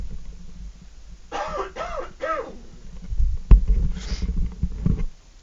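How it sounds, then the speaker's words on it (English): A person who is a little sick coughs three times in quick succession close to a microphone, each one a short harsh bark, followed by muffled shuffling and handling noise. "I did not want to cough into the microphone"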